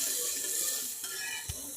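Spice paste sautés in a pan with a low sizzle and a couple of soft spoon scrapes, close and fairly quiet throughout, with a small knock near the end.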